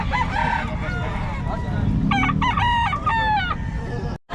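A Boston Hen chicken, a gamefowl line at a market, crows loudly and clucks nearby over a noisy background of crowd murmur.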